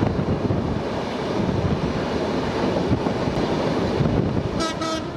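A passenger train on its trial run along the new Padma rail link in Bangladesh, between Khulna and Dhaka, rumbles loudly and steadily past with wind buffeting the microphone, and a horn sounds near the end.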